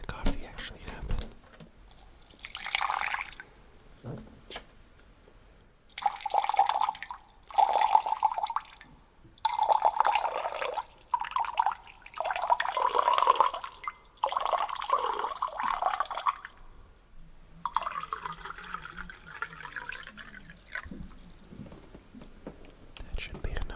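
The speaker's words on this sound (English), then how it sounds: "now I get to pour the water into the thing to make the coffee actually happen." Water poured into a coffee maker in several trickling, splashing bursts, close and intimate, with a whispering voice between and over the pours.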